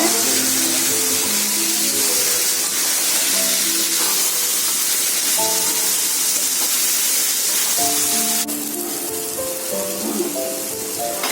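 Mango pieces fry in hot oil for mango thokku with a steady, loud sizzling hiss that continues throughout, and faint tonal sounds sit underneath.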